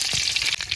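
Eggs frying in a hot pan in a village kitchen, a steady bright sizzle with small pops and crackles throughout the short moment.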